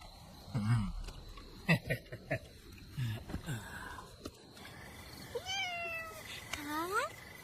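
A domestic cat meows several times in a rising, drawn-out tone near a village house, the calls standing alone in a quiet interior after a few other brief sounds.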